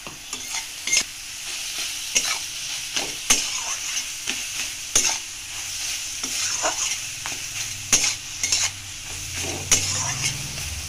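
Shrimp frying in oil with turmeric and salt, a steady bright sizzle broken by repeated sharp clicks and scrapes of a spatula against the pan, close and fairly loud with no talking.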